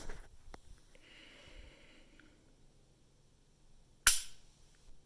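A single sharp dry-fire trigger click from a Smith & Wesson M&P Shield Plus pistol sounds close and loud in a quiet room, after faint handling noises.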